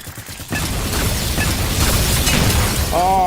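A flashbang grenade goes off in Halo 4 as a sudden loud burst, followed by a dense sustained roar with a ringing tone rising near the end, over background game noise.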